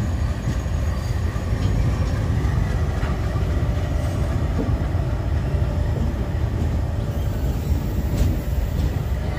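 An express train hauled by a WDP1 diesel locomotive on the Ajmer–Amritsar route runs along with a steady rumble and rattle of wheels on track, heard close and continuous without speech.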